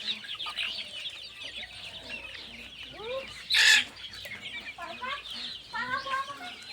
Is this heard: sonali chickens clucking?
yes